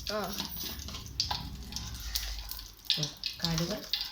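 Mustard seeds sputtering and popping in hot coconut oil in a pan with curry leaves, a crackling sizzle running under a voice talking throughout.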